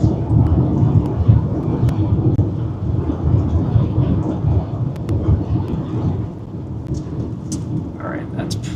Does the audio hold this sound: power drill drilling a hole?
no